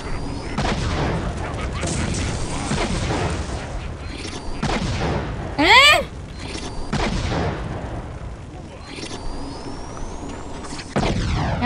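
CT rockets fire in a video game: booming blasts and heavy crackling bursts run throughout, with a brief rising whistle in the middle, loud and close.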